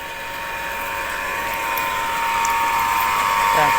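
A water pump runs steadily while filling a rice paddy, giving a continuous mechanical whine with a faint ratcheting buzz that grows slightly louder toward the end, with no voices.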